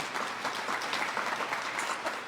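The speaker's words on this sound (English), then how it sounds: "I'd like to give him a round of applause" An audience at a retirement ceremony gives a steady round of applause, dense clapping from many hands that holds at an even level throughout.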